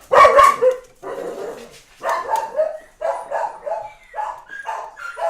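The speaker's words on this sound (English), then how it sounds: "Sorry about the dogs." Dogs barking in a home, several separate bursts of loud, close barks and yips spread across the stretch, with no talking over them.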